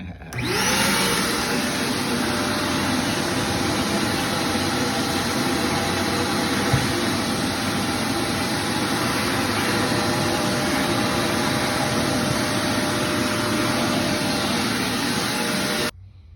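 A household vacuum cleaner converted into a workshop dust collector runs at full power, a loud steady roar with a high whine that holds from start to end before cutting off.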